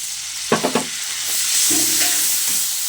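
A spice paste of ground cumin and coriander, chili powder, green chili and salt, loosened with a little water, sizzles loudly in a hot pan, with a few quick stirring scrapes near the start, close up.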